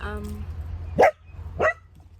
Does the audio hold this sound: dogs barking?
yes